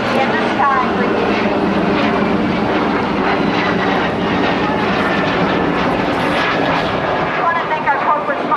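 Vintage MS760 jets with older engines fly over an airshow, a loud, continuous roaring drone that rises and falls as they pass, with an announcer's voice over it.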